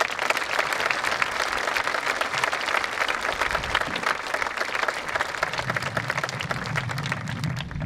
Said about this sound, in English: Please give this year's valedictorians a round of applause.